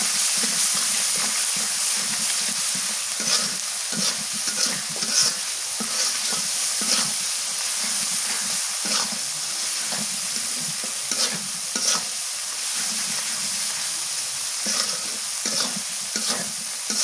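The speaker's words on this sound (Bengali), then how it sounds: "মশলা কষানো হয়ে গেছে" Spices with salt and turmeric being sautéed and stirred in a frying pan for a Bengali fish and taro dish, a continuous loud sizzle broken by repeated scraping strokes of a spoon throughout.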